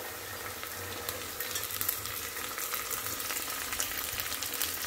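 Field beans frying in a pan with golden brown onions for avarekalu bath, a steady soft sizzle that runs throughout with no talk.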